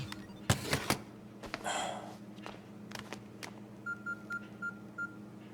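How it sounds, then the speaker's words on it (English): A phone rings indoors in a tense drama scene, a short repeated electronic trill pulsing in even bursts near the end, faint against quiet room noise after a few knocks and rustles. "don't you hear your phone ringing?"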